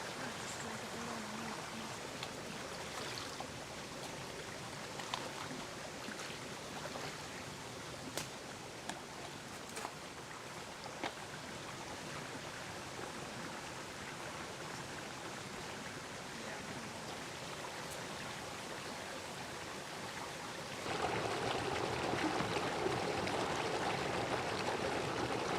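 A wilderness stream in the Adirondack High Peaks flows with a steady, moderate rush of water, with scattered faint clicks, and the flow grows slightly louder and brighter toward the end.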